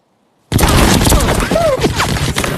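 Sudden loud burst of rapid machine-gun fire cracks in from silence, dense and continuous, with a voice shouting over the chaos.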